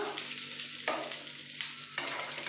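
Onions fry in melted butter with a close, steady sizzle, and three scraping stirs swell the hiss at intervals of roughly a second.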